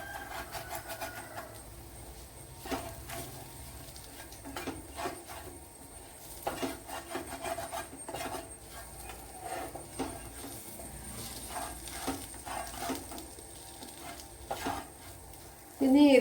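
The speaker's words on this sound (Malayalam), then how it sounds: "ഇതിനി നല്ലവണ്ണം ഒന്ന് ഇളക്കി കൊടുക്കാം." A spice mix with coriander powder is stirred in a pan before leftover porotta is added, giving irregular soft scrapes and light taps of a utensil that run on fairly quietly for several seconds.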